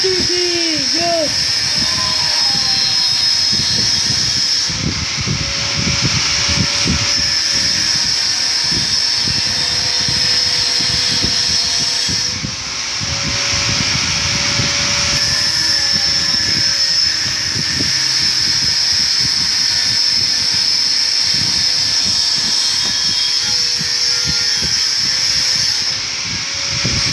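A helicopter engine from the video game Granny: Chapter Two whirs continuously with a steady rotor drone and a high whine, loud throughout, with faint in-game sounds layered over it.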